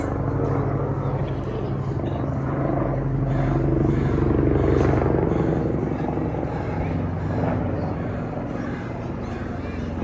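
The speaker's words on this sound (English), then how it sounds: "I'm just gonna wait for this helicopter to pass." A helicopter's deep, pulsing drone swells and fades as it passes overhead at a Vancouver harbour, loudest around the middle, with some talk underneath.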